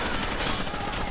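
Rapid gunfire from a shooter game, Rainbow Six Vegas 2, crackles densely and continuously through a short burst at steady loudness, with no clear speech over it.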